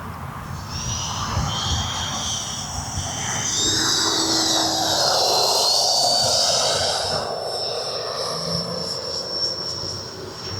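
An E-flite Viper 90mm RC model jet makes a landing run over a grass field, its high ducted-fan whine swelling as it nears, peaking mid-pass, then easing off as it moves away.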